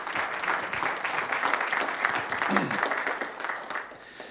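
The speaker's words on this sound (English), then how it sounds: "let's give Mike a round of applause for doing that" Audience at a neighborhood council meeting applauds Mike, who runs the camera, with a dense, steady wash of many hands clapping at moderate loudness for about four seconds, tapering slightly at the end.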